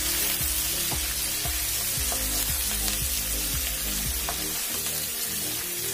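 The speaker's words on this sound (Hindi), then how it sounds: "अब इसमें हम कटे हुए मिर्च डाल देंगे," Chopped chillies sizzling loudly in a pan for Rajasthani mirch tipore, a steady dense frying hiss broken by regular scraping strokes as the mixture is stirred.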